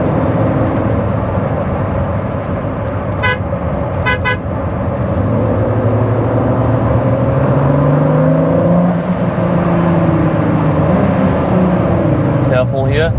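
A Ford GT with a turbocharged engine roars at full throttle, its pitch sweeping upward through the revs as it accelerates, heard from inside the cabin with someone talking over the loud drone.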